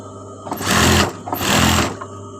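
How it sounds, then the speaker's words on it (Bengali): Sewing machine stitching elastic around the waist of a salwar, two close bursts of rapid mechanical whirring, each about half a second long, separated by a short pause. "পুরো রাবারটা ঘুরিয়ে ঘুরিয়ে সেলাই করে দিব"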